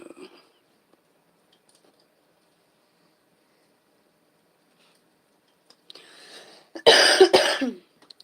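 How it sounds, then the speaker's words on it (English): A burst of harsh coughing near the end, loud and close, preceded by a quieter rustle and mostly silence before. "excuse me for any and all coughs"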